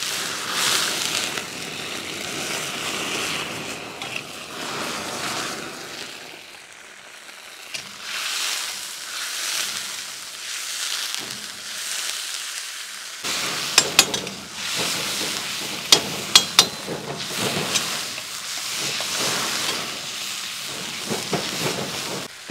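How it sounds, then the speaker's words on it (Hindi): Fish frying in hot oil in a karahi for dhaba-style fish karahi, giving a steady loud sizzle with stirring scrapes and a few sharp clinks partway through. "हमने 3 से 4 मिनट के लिए इसको फ्राई करना है"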